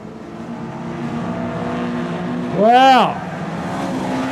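Junior sedan race cars run at Kingaroy Speedway, a dirt track. A loud engine drone carries throughout, one car roars past close by with a rising and falling pitch, and a voice gives a short exclamation.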